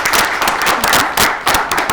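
A young studio audience applauds at a televised discussion, a steady burst of clapping that stays loud and close for the whole two seconds with no voices over it.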